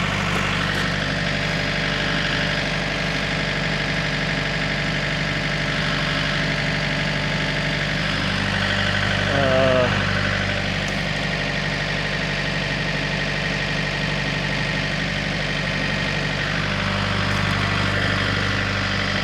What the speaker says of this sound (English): got the tractor ready